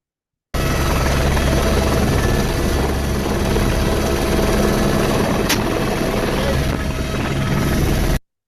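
A helicopter flies overhead during a moose and wolf survey in Ontario's boreal forest, its loud continuous rotor and engine roar close and steady throughout, with a brief sharp click midway.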